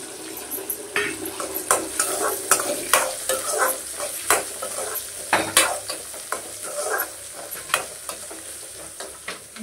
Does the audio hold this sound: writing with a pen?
no